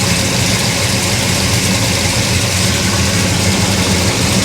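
A Chevrolet Monte Carlo engine idles steadily and loudly up close, a constant low rumble with broadband mechanical noise and no voices.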